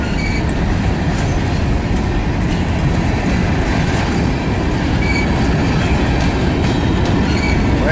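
A train rolls past close by on the track, a loud continuous rumble with rhythmic wheel clatter and faint squeals of wheels on rail, with no voices.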